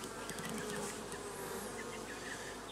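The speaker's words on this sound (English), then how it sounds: "There's a really lot of bees on here." Honey bees buzz densely and steadily at an open hive, a close, continuous hum with no break.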